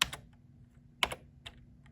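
Several separate keys on a computer keyboard tap in a quiet room, including the up arrow key, with a sharp click near the start, another about a second later and two fainter taps after, and no talking.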